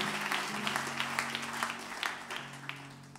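Congregation applauding in a church service, a steady wash of many hands clapping at moderate volume that carries on throughout, with a low hum underneath.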